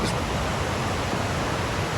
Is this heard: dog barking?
no